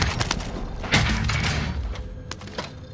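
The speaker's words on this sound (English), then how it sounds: "Dude, that's a fucking sniper rifle." Rapid sniper rifle shots and heavy gunfire crack through a busy firefight in Call of Duty: Modern Warfare, giving loud, dense bursts with a sharp peak near the start of the second.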